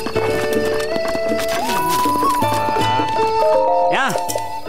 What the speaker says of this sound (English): Now I need my horse.